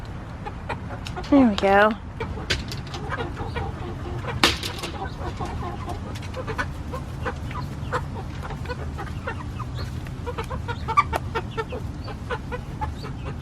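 Chickens and roosters on an urban backyard farm cluck and squawk nearby, with one loud rising call early on, under a steady farmyard murmur while a person briefly speaks.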